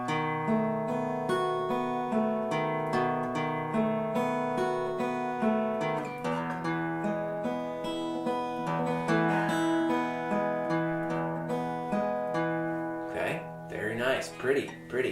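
Acoustic guitar fingerpicks the last four measures of a verse from a song, a steady flowing pattern of plucked notes and held chords, close and clear, with a few brighter scratchy strums near the end.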